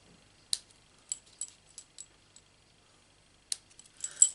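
Scissors snipping small bits out of a paper craft card, a few sparse crisp snips spread across several seconds, close and fairly quiet in an otherwise silent room.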